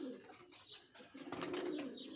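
Pigeons coo in low, soft repeated bursts on a rooftop loft, fairly close, with brief louder rustling and chirpy sounds partway through and no talking.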